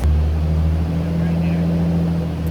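Nissan 350Z engine exhaust, a loud, steady low drone with a strong humming tone that holds nearly constant at close range rather than clearly climbing, while voices talk over it.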